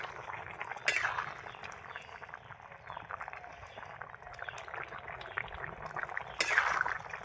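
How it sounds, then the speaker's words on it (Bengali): A pot of taro and prawn curry simmers with a soft, continuous bubbling. A lid clanks sharply on the pot twice, once near the start and once near the end. "এই যে দেখুন কত সুন্দর ফুটছে"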